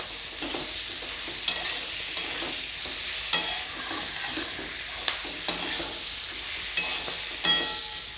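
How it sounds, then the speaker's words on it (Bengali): Spices with chopped tomato fry in a pan for a cabbage dish while a spoon stirs, giving a steady soft sizzle broken by scattered scraping clicks at irregular intervals, close and moderately quiet with no talk. "ভালো করে এটা কষাবো এবারে দিয়ে দিব টমেটো কুচি"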